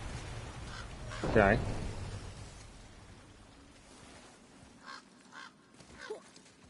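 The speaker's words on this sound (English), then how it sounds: "I think I can just hear the birds in general." Birds call in the God of War video game, with a loud honking, goose-like cry early on and fainter, scattered calls afterward under a man's brief speech and soft ambience.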